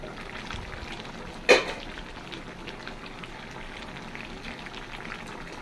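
Tea boiling in a pot on a kitchen stove, giving a steady, close bubbling and hissing simmer throughout, broken by one sharp brief knock, with no talking.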